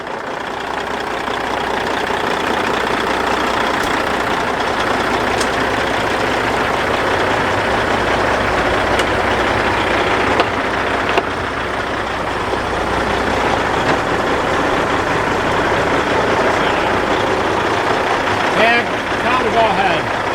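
A Cat C15 truck diesel engine with a freshly replaced turbo runs steadily at a constant rumbling idle, loud and close throughout, with a brief clunk near the end.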